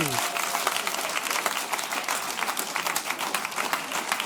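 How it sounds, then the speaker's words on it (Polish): Audience at a stand-up comedy roast applauding, a dense and steady burst of clapping from a live crowd that continues throughout at a fairly close distance. "Dajcie wielkie brawa, Filip Kidziuś-Białoskórski!"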